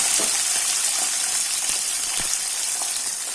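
Small onions fry in oil for kara kulambu, giving a steady bright sizzle with faint crackles and pops throughout.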